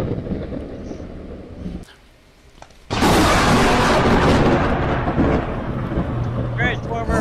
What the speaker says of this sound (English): Transformer. Yep. Oh yeah, that's a big explosion when it hits those.